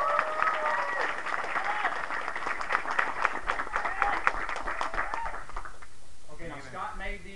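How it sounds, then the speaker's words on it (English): A room full of people claps steadily in a round of applause for an honoured guest, with voices talking over it throughout; near the end the clapping thins and a higher voice comes through more clearly. "I would like everybody to give him just a round of applause."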